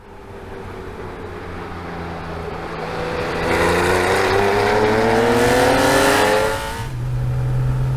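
A Porsche 993 built in RWB style accelerates hard on a public road, its engine climbing through rising revs with a loud, steady growl that drops back after a gear change near the end, with no talking.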